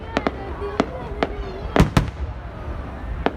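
Outdoor fireworks burst in a quick irregular string of sharp cracks and pops, two louder bangs standing out midway, with faint voices underneath.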